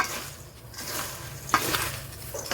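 Onions fry in a wok for a sambal garing with tongkol fish, giving a soft, low sizzle with occasional scrapes and clinks as a spatula gently stirs at the edge of the pan.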